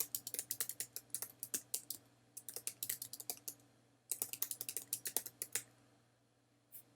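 A sentence is typed on a computer keyboard in rapid bursts of crisp key clicks, with short pauses between runs of strokes. It is close and clear with no talk.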